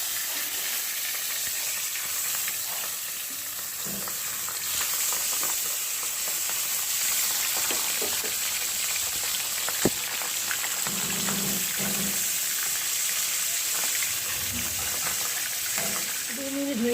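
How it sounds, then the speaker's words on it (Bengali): Pabda fish frying in hot oil over a lowered gas flame for a Bengali doi pabda dish, a continuous close sizzle with occasional sharp pops and crackles and some low clatter from the pan. "তেলটা গরম হয়ে গেছে, আমি গ্যাসের ফ্লেমটা লো করে এবার একটা একটা করে মাছ দিয়ে"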